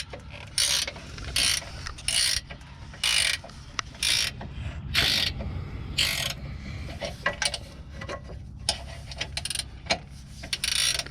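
Ratchet wrench working on the rear motor mount of a 2017 Ford Focus RS, with rapid bursts of clicking pawl strokes in repeated sets, close and fairly loud with no talking.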